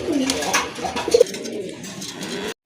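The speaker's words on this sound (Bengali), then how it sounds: "যারা রাজগোল্লা কবুতর খুঁজছেন বা পছন্দ করেন বা পালতে চাচ্ছেন তাদের জন্য ভালো মানের এক জোড়া কবুতর" A pair of Rajgolla pigeons coo softly, with a few low throaty calls rising from steady background noise before the sound cuts off abruptly.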